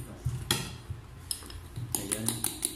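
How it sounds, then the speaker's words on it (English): Homemade pancake batter is stirred with melted butter in a bowl: irregular light clinks and taps of a utensil against the bowl, close and fairly soft, coming in quick bursts with brief pauses between them. "continue mixing until it will feel soft and ready for cook"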